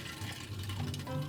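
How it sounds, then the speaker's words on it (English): Water running from a tap inside an RV while boondocking, a steady low gushing flow that holds for the whole moment, fairly close and quiet with no voices over it. "water's coming"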